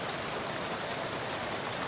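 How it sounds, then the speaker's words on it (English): Steady rain in the Shadows Over Loathing video game hisses evenly and densely without pause, a dense continuous patter with no voices over it. "How about this rain, huh?"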